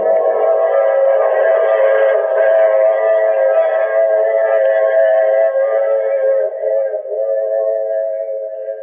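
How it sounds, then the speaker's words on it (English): Steam-era train whistle sounding over a running train in a 1950 old-time radio drama effect, a loud sustained multi-tone wail held steadily for several seconds before easing slightly at the end, with no voices. "I take this same train every week at this same time."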